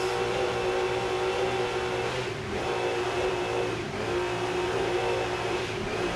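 A JEM Motorsports racing powerboat runs at the start of a race at the 2004 Key West offshore world championships, its engines giving a loud, steady broadband roar with a slight dip midway and no talk.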